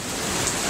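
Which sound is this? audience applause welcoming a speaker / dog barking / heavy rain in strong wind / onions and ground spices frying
heavy rain in strong wind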